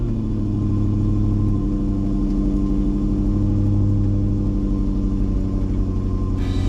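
Range Rover V8 firing up for the first time after all eight fuel injectors were replaced, then settling into a steady, loud, even idle rumble heard up close.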